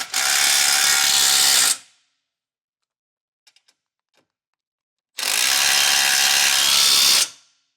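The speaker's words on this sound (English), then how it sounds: "we'll tighten down our factory bolts also with the same 16mm socket that we used to take them off" A hand ratchet with a 16mm socket tightens factory bolts while fitting a Roadmaster Direct-Connect base plate to a 2025 Jeep, giving two long, loud bursts of rapid clicking separated by a quiet gap with a few faint clicks.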